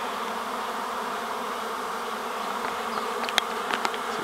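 A honeybee swarm buzzes around a hive, a dense steady hum of many bees close by with no talking, and a few sharper clicks and knocks near the end.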